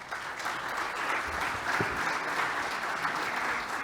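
An audience at a conference panel applauds steadily, a dense even wash of clapping at moderate level that holds throughout without talk.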